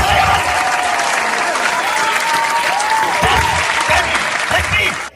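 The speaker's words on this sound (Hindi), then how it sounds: "एक जोरदार ताली इन्हें" Loud, dense applause from a school prize ceremony audience fills the hall continuously for about five seconds, with a held musical tone running beneath it before the clapping cuts off abruptly at the end.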